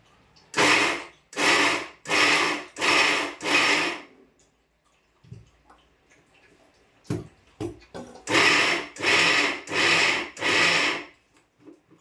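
Roasted peanuts being coarsely ground in a kitchen mixer: five short whirring pulses of the motor, a pause with a few clicks and knocks, then five more pulses, loud and close.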